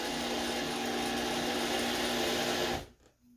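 A power screwdriver whirs steadily as a screw is driven into a wall anchor while installing a hand towel bar, a close, continuous motor whine that cuts off abruptly near the end.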